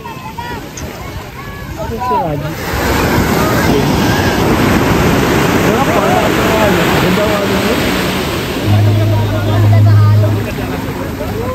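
Ocean waves break and wash onto a beach at sunset in a broad, continuous roar of surf that swells and fades, with wind buffeting the microphone and voices of people chatting and shouting nearby.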